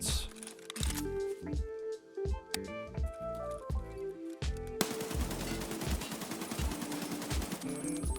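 Rapid rifle fire from a budget rifle build in Escape From Tarkov, loud bursts of shots in quick rhythm, first in separate bursts and then a long sustained automatic stream with no pauses.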